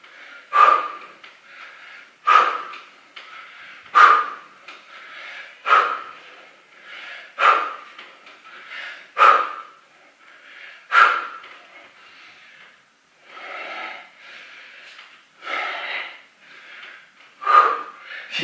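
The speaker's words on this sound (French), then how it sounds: "J'inspire et j'expire." A person doing a chair exercise breathes audibly and rhythmically, with about ten sharp, close exhalations spaced roughly every two seconds and quieter inhales between them, and no talking.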